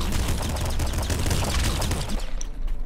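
Double machine guns firing in Nuclear Throne, a loud rapid fusillade of overlapping shots that rattles continuously for about two seconds, then thins and ends.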